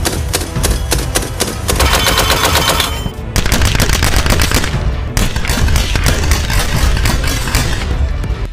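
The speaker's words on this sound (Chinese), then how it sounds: "接下来测试装满沙子的铁桶，这次不废话，直接火力全开。" A Soviet DShK 12.7 mm heavy machine gun fires sustained, very loud bursts of rapid, closely spaced shots into sand-filled steel barrels, with only a brief break in the firing.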